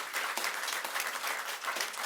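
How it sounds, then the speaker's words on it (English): Audience applause welcoming a deputy minister of the South African Presidency at an annual statistics event, a steady dense wash of clapping held at one level for the whole stretch, with no voices above it. "Ladies and gentlemen, give a round of applause to welcome Deputy Minister Manamela."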